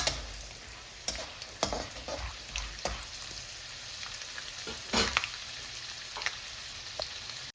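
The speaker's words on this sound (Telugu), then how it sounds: "కొంచెం వేగనించినాక పల్లీలని తర్వాత పుట్నాలు వేసుకోవాలి. దీన్ని కూడా వేయించుకోవాలి" Peanuts and roasted gram fry in a pan. A continuous crackling sizzle carries sharp clicks and scrapes from stirring, close by and moderately loud, with no talking.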